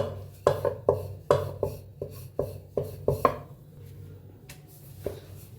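Rolled dough being cut into round kadakani shapes on a board: a series of about nine sharp, close knife taps in uneven rhythm, then a pause and one last tap, alone with no talk.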